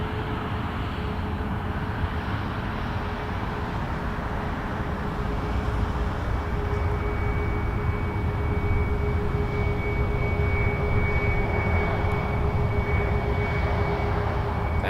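A Flair Airlines Boeing 737 MAX 8 jet at Toronto Pearson airport gives off a steady, continuous engine roar with a thin whining tone, heard at moderate distance throughout, with no talking.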